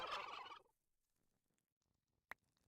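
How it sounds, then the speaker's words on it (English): A Minecraft turkey lets out a loud, rapid gobbling burst, then quiet follows with a single sharp click near the end. "the repetitive sounds of turkeys laughing in our ear"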